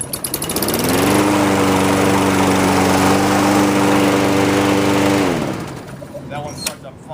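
Small Lawnboy or Sears walk-behind mower engine, just serviced, fires up and runs at a steady high-pitched buzz for about four seconds, then cuts off, leaving quiet room noise.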